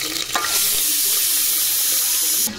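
Green chilies and onions frying in a pan for bagara rice, making a loud, constant sizzle with a few stirring scrapes near the start and a sudden drop at the end.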